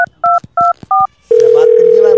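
Someone dials a telephone. Four crisp keypad tones sound one after another at an even pace, then a loud, steady line tone follows and holds to the end, close and clear.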